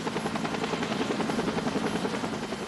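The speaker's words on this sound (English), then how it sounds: "When the Air Care helicopter got Gilbert to Baptist Hospital" Air Care medical helicopter in flight during a rescue, its rotor thudding in a steady, dense pulse that stays loud and close for the whole stretch, with no voices over it.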